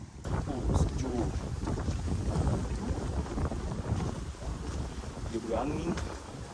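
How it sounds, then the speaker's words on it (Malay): Cold wind gusts across an open outdoor trail at a mountain gap, a steady broadband rush with swelling buffets against the microphone throughout, with faint voices underneath. "Dia berangin."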